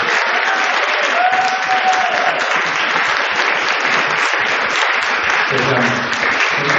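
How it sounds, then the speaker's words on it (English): An audience applauds at a fundraising concert in St Mary's Church, Benfleet: dense, sustained clapping from a crowd filling the room, close and loud throughout, with a voice briefly heard over it. "So we give Alice a big round of applause."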